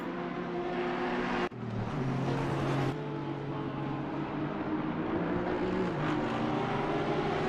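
GT3 race cars in Assetto Corsa Competizione, a close pack of engines droning steadily with sustained tonal whine and a brief dropout, continuous and moderately loud with no talk.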